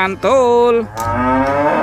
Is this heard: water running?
no